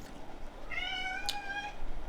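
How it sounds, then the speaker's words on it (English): A rescue cat lets out a single drawn-out meow in a quiet room, moderately close, over faint background hiss and with no one talking. "If you hear any meowing or see any cats, these are my rescue cats."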